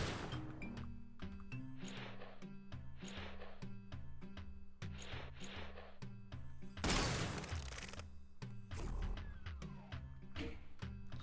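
Shotgun fire in the video game Doom 2: repeated punchy blasts crack out in quick succession over a driving looping soundtrack, with one heavier, longer burst partway through.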